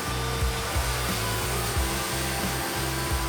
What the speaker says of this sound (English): just keep slowly grinding away at the surface until it becomes a slip fit